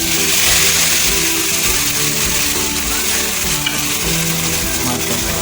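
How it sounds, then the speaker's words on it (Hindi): Cumin seeds tempering in hot oil for a kadhi pakora tadka, a steady close sizzle and crackle running loud and unbroken throughout with no talking. "जब जीरे का तड़का लगता है तो ऊपर डालने में बहुत मज़ा आता है"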